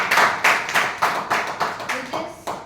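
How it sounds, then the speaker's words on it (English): An audience at a Toastmasters meeting claps in a series of rhythmic bursts, roughly two per second, loud and close, sustained for the whole stretch. "let's gesticulate by clapping for those who dare to participate"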